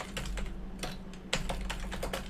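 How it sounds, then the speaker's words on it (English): Typing on a computer keyboard while writing program code, a close run of quick irregular key clicks with short pauses, heard alone without speech. "I can type on multiple lines"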